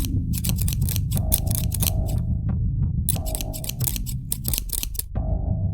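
Scissors snip repeatedly at close range in uneven bursts, each cut carrying a faint metallic squeal of the blades, with quiet pauses between runs of snipping and no talking.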